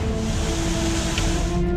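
Surging floodwater of the Gandak river at Valmikinagar, Bihar, a loud, steady roaring rush with a low hum running through it.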